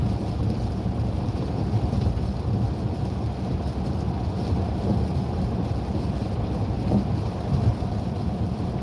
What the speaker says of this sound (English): Oh, that's a heavy storm.